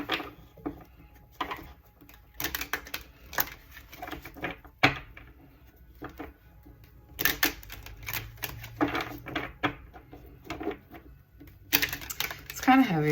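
Tarot cards being shuffled by hand come through as irregular bursts of soft riffling and tapping between quiet gaps, close and moderately loud.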